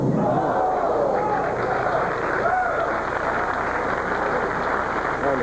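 Capacity crowd cheering and roaring at a 1990 professional bowling tournament, a steady dense wall of crowd noise with excited voices swelling throughout, no clear pauses.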